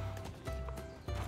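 Hooves clip-clop in a steady walking rhythm as a tiny circus horse and rider move along Nilma's Highland in the online horse game Star Stable, with soft game ambience underneath.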